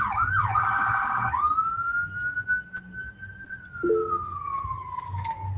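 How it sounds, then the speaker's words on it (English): A wailing ambulance siren rises and sweeps, then holds a long steady tone that slowly falls, with faint background noise underneath. "Again, sorry for the ambulance."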